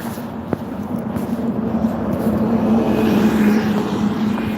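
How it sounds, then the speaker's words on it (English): A turbocharged engine hums steadily, with a faint whine riding over the low drone and swelling slightly louder toward the end. "Turbo noise."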